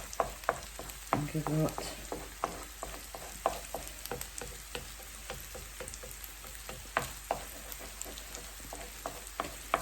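Prawn fried rice sizzling and frying in oil in a pan, a steady close crackle with frequent spatters and stirring scrapes, as a person speaks briefly over it.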